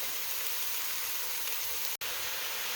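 Ground mild Italian sausage and ground beef cook with onions and garlic in a large batch of homemade spaghetti sauce, giving a steady, even sizzle with one brief dropout near the end.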